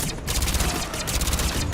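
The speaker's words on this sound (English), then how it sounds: "Let's see if this SMG pistol's any good" Short bursts from an SMG pistol firing in Mass Effect 3, a dense crackling volley that runs steadily through the moment, loud and close, with no talking over it.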